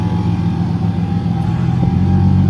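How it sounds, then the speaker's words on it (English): An oil scavenge pump runs on a Nissan 370Z with a rear mount turbo at first start, heard from outside as a loud, steady droning hum over the idling engine. "That noise that you hear is the scavenge pump, obviously doing its job, scavenging the oil from the back."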